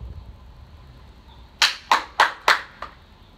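Five sharp hand claps in a quick, slightly uneven rhythm during a ball-catching warm-up game, close and crisp after a quiet lead-in, the last one softer.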